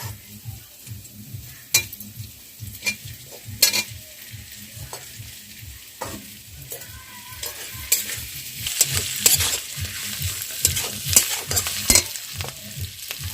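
Fried pointed gourd is stirred into a sizzling pan of curry with coriander leaves, a spoon knocking against the pan in repeated scrapes over steady frying crackle that gets busier later on.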